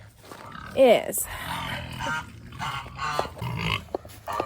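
Pigs on a muddy farm after heavy winter rain grunt and oink in short bursts, close by, while a person talks over them.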